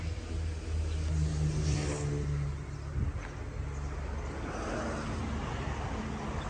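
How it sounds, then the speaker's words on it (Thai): A used Toyota Hiace van with a 5L engine runs and revs up close, its engine rising and falling in a steady, loud rumble with a brief quiet voice in the background. "ลูกพี่สตาร์ท เครื่องเลยครับ"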